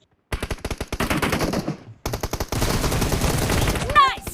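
A video game on a Poco F1 phone running Corvus OS fires loud, close automatic gunfire in rapid bursts, with a brief pause between volleys and a short electronic sound effect at the end.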